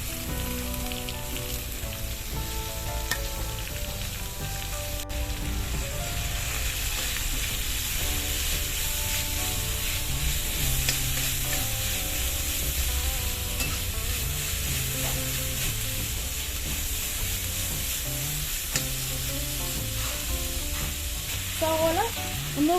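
Long-sliced onions fry with ginger and garlic in hot oil for a soya chunks roast, giving a steady, close sizzle with spoon stirring and scraping against the pan, continuous throughout and without speech.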